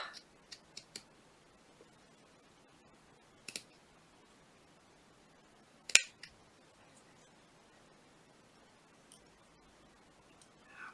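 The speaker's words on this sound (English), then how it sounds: "I'm going to continue to cut between stitches 6 and 7 all the way up." Scissors snip between yarn stitches to cut fringe, giving a few faint, scattered clicks and snips up close in a quiet room.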